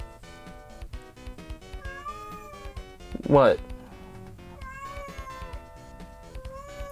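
A pet cat gives one short, loud meow in the middle of a quiet room, while a person talks softly before and after it.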